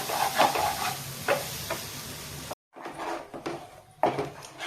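Ginger garlic paste sautéing in a pan over a low flame for chana bhatura: soft sizzling with stirring scrapes and light clinks, broken by a brief silent gap midway, no voices.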